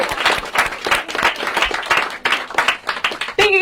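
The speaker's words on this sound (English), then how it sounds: "All right, big round of applause." A small audience claps after a talk on forensics, brisk and loud with distinct individual hand claps in a quick uneven rhythm, close by, ending with a brief voice at the very end.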